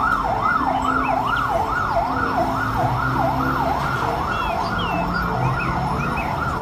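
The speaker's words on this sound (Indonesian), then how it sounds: "Kalau yang ini mobil pemadam kebakaran." A toy fire truck's siren wails, sweeping steadily up and down in a continuous electronic loop, loud and close, with a faint rumble underneath and no talking.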